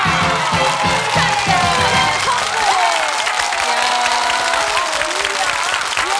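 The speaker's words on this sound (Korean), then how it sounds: "박수 보내드립니다" Studio audience applauding on a Korean KBS TV family game show, a loud, dense burst of clapping with some cheering that carries steadily throughout, a host's voice briefly heard early on.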